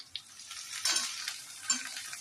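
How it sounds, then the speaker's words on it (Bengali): Carrots and beans sizzle and crackle in a hot pan with fried onion, with a few soft stirring scrapes over a steady frying hiss; close and moderately quiet, no talking. "এরপর আমি গাজর আর বিনসটা দিয়ে দেবো।"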